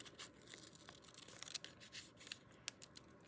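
Scissors snipping through old paper to trim the bottom of a full-size flip flop journal, faint and close, with a few small crisp cuts and rustles and no talk.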